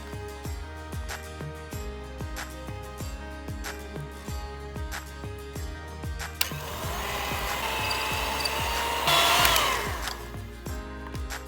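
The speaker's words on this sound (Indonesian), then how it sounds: "kocok mentega dan gula halus hingga tercampur rata" An electric hand mixer whirs steadily while beating butter and powdered sugar for cornflake cookies, with a harsher, louder stretch of beating near the end and no talk.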